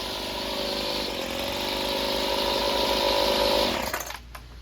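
A Weedeater FL26 weed trimmer's small two-stroke engine runs steadily at close range with a buzzing drone, then cuts out near the end with no voices present.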